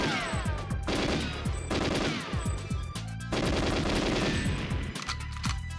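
Gun turrets in the GoldenEye 007 video game firing in rapid sustained bursts, loud, dense machine-gun rattle with brief pauses between volleys and no talk.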